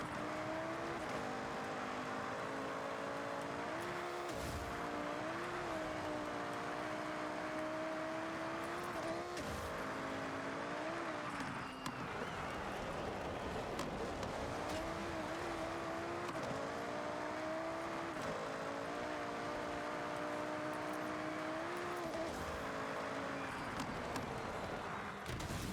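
A race car in Forza Horizon 6 driving through an event, its engine note rising and falling with gear shifts in a steady, continuous drone with a few brief bumps.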